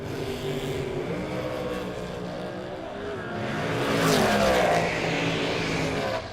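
Roadster race car at a drag-style race event, engine note rising as it accelerates and passes close, swelling in the middle then easing, with an announcer talking over it.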